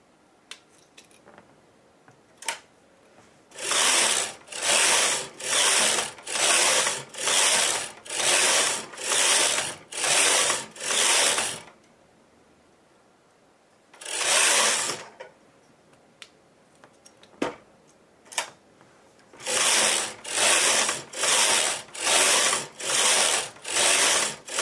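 A knitting machine carriage sweeps back and forth across lace knitting in a fast run of even, loud whooshing passes, then a single pass after a pause and another rapid series, with faint clicks between strokes.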